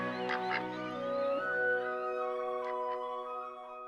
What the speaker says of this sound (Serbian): Sitniji rođaci labudova, domaće patke, poješće sve što pronađu u mulju.